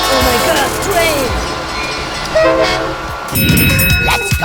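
An approaching train sounds its horn in several loud, sustained blasts among rail rumble, with excited voices shouting over it and a heavier rumbling surge near the end.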